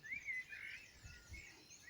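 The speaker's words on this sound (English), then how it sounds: "Birds singing, trees blooming" Birdsong on a warm spring afternoon outdoors: a few faint, thin chirps and short warbling phrases drift in from a distance over quiet low background rumble, with no talking.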